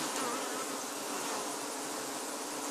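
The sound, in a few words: honey bee colony buzzing in an open hive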